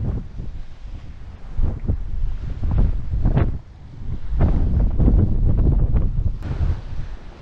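A strong, cold nord-ost wind gusts across an empty beach in Gelendzhik in October, roaring heavily into the microphone in surging bursts with brief lulls. No voices are heard.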